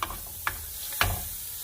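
Shredded cabbage and carrot hit hot oil in a pan, with two sharp scraping stirs over a faint, steady sizzle.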